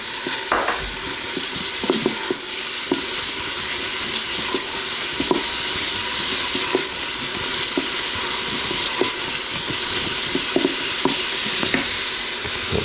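Eight cloves of garlic fry in a sauce, a continuous close sizzle and bubbling hiss broken by frequent soft scrapes and taps from steady stirring, with no voices.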